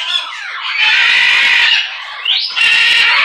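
Harsh, loud squawks from a pet bird, a long raspy burst followed by a second after a brief pause, close to the microphone with no talk over them.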